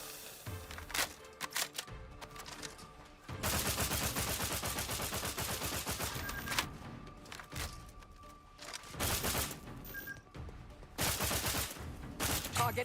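Enemy gunfire in The Outer Worlds 2 crackles in repeated bursts of rapid automatic shots and sharp single reports, loud and close, with brief gaps between volleys.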